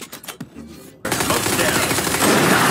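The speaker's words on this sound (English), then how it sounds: "Oh, I got shot." Sustained, loud burst of automatic gunfire in the tactical shooter Valorant, erupting suddenly after a quieter stretch of footsteps and movement and continuing densely to the end.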